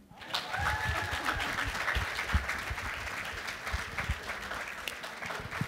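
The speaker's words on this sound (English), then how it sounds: "Let's give another round of applause" An audience at a live event bursts into sustained applause, a dense, even roar of many hands clapping that holds at a steady level for several seconds, with a voice briefly audible over it near the start.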